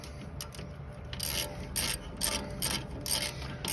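A hand ratchet tightens new bolts on a four-wheel drive, giving a steady run of close, rhythmic clicking strokes, each pass a short burst of rapid pawl clicks with no one speaking.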